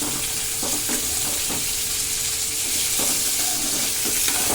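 Chopped onions sauté with salt in a hot pan for tomato chutney, giving a continuous loud sizzle with occasional stirring scrapes and soft clicks, and no voice.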